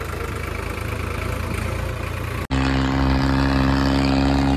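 Two tractors, a Powertrack and a Swaraj, idling loudly and close for a tug-of-war, a steady rumbling drone that cuts briefly and resumes with a stronger humming tone, no talking.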